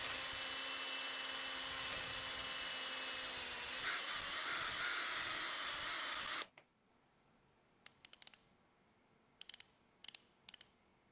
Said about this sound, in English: I used a manual honing tool meant for resurfacing cylinder bores